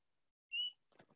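A Swainson's thrush gives a single clear, high peep call, short and isolated against near silence, followed by a few faint scattered rustles.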